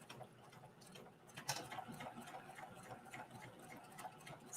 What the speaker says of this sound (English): this is sewing through all those layers plus more layers, and it's sewing just fine